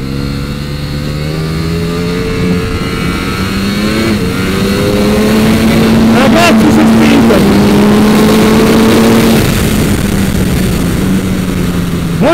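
Ducati Panigale V4 S 2020 motorcycle on the Bahrain circuit, a loud close engine howl holding and shifting pitch through gear changes at track speed, with wind roar throughout.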